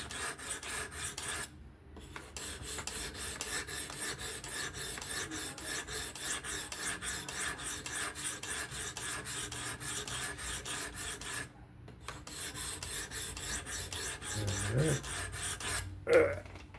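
A Spyderco Kapara knife with S30V steel is sharpened on a fixed-angle sharpener, producing rapid, continuous rasping strokes in a steady rhythm, close and clear, with two brief pauses and small knocks near the end.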